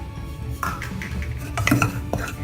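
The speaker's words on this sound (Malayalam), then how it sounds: "ഇതേപോലെ തന്നെ നമുക്ക് ഈ ഉഴുന്ന് പൊടിയും ഒന്ന് വറുത്തെടുക്കണം" A spatula scrapes and clinks around a pan in a few quick strokes while dry-roasting urad flour, close up, with no voices.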